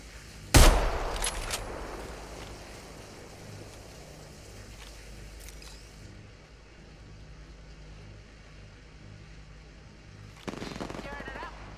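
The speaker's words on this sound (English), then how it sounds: "He's shooting at me." Gunfire in the video game Apex Legends: one sharp loud shot near the start, then a low hum with faint scattered shots and a brief burst later.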